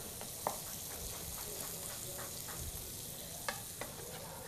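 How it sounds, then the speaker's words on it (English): Thin pear slices frying in unsalted butter, a soft steady sizzle with a few faint clicks and scrapes of stirring, quiet and close with no talking. "I'm gonna slice them up nice and thin, get them in my unsalted butter."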